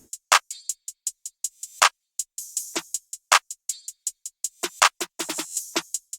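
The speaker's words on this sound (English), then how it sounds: "Then added a hi-hat loop from my MIDI kit." A programmed beat with a hi-hat loop from a MIDI drum kit: crisp, bright ticks and hits repeat in a steady, bouncy rhythm, close and dry, with no bass underneath.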